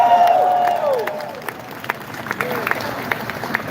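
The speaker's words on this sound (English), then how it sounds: "Give yourselves a round of applause." Rally crowd at a reparations event applauding and cheering, a loud sustained wash of clapping with shouted voices over it that slowly thins out.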